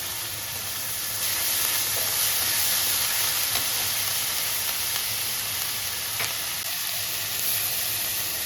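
Ginger and garlic paste sizzles steadily in a hot pan while cooking pointed gourd with prawns, a broad continuous hiss of frying running close and even throughout.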